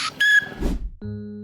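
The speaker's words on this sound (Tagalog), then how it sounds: "Di isa o dalawa, kundi sangkatutakang silbato." Whistles blown by a man who plays dozens of them in a whistle band in Dasmariñas, Cavite: short, loud, close tones, first a sharp high burst, then a thud and a steadier lower note.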